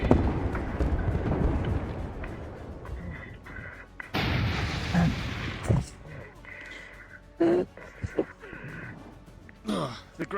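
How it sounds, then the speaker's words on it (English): Artillery cannon fire in a VRChat role-play battle booms in several heavy bursts amid crow-like caws, gasps and background chatter, with people talking throughout. "Artillery comes in from the cannons, large sweeps against enemies going towards the trees."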